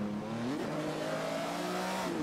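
A Ferrari engine revs hard in the Assetto Corsa driving game during a snow rally, a steady loud engine note climbing and holding in pitch, with no talking.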